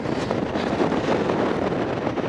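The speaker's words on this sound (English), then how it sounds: "It's very windy up here." Strong wind on a mountain top at Blowing Rock, North Carolina buffets the microphone with a steady, loud rumbling roar and no pauses, like gusts hitting the mic directly.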